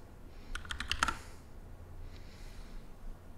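Fingers type a short Linux terminal command on a computer keyboard, a quick burst of about half a dozen close clicks that ends in a firmer keystroke, followed by quiet room tone.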